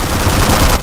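A short, loud burst of rapid automatic gunfire from the Dark Sector video game, shots packed tightly together in under a second and heard up close with no talking.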